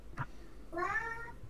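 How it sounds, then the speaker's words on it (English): A house cat gives a single drawn-out meow, close and clear, heard alone after a brief soft noise. "I can also hear the cat."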